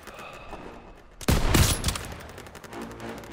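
A sudden loud, close burst from a flak gun in a World War II battle in Call of Duty WWII, striking after a quiet second and decaying over about two seconds amid faint background battle noise.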